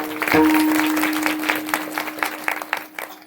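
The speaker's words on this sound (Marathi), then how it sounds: "वाजवा एकदा जोरदार टाळ्या" A kirtan audience bursts into loud, sustained applause, a dense crowd clapping that carries on over a faint steady drone, with sharper claps standing out toward the end.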